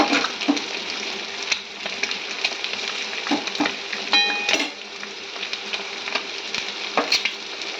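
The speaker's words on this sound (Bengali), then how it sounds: "আর একটু টাটকা হওয়ার জন্য একটু ভেজে নিচ্ছি সাইড দিয়ে।" Peanuts fry in a pan, crackling steadily up close with repeated stirring scrapes and small clicks, one brief clinking tone partway through, and nobody talking.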